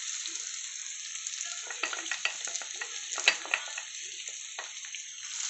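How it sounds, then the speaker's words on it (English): Tomatoes with turmeric frying in a pan for a green gram and cucumber curry, a steady close sizzle with soft stirring scrapes and small splutters throughout. "So I let the tomatoes get a little cooked in this way."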